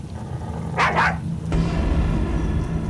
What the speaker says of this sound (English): she began to hear their dog barking again